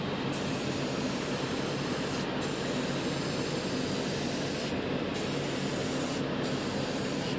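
A spray gun lays a final coat of paint on the spoiler parts of an Airbus A380 model. The hiss is loud, close and continuous, with a few tiny breaks in the spray.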